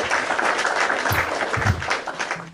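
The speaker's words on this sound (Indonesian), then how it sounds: "Yang tidak on cam di bawah saja kasih tepuk tangan" Applause from participants at an online Islamic gathering, dense clapping that holds steady for the whole stretch, moderately loud with a few low thumps underneath and no talk.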